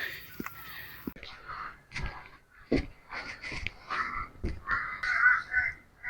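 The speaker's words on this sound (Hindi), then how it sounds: "और खामोशी देखें, सिवाय कौवों की आवाज़ के" Crows caw in a forest wildlife park, their harsh calls repeating near and far across the trees while a person talks softly nearby.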